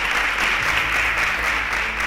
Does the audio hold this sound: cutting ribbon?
no